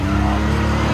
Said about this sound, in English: doing a test run in the Can-Am to get the speed correct